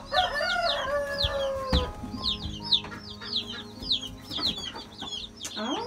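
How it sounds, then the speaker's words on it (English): Newly arrived meat chicks from a hatchery chirp in a dense flurry of high peeping calls, with a lower fowl call early on and soft thumps underneath, heard close indoors. "So we got some new chicks."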